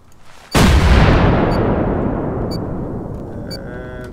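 An explosive charge detonates on a base during a raid in the Rust video game: a sudden, loud, close blast with a heavy low boom that rolls off into a long fading rumble.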